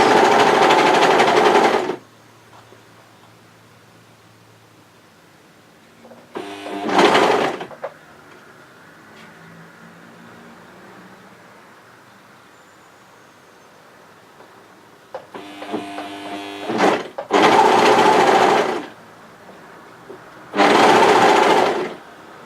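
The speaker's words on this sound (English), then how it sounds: "So I'm going to overlock this like that" Overlocker sewing dress fabric, several loud bursts of rapid mechanical stitching, each a second or two long, separated by quiet pauses with light handling sounds.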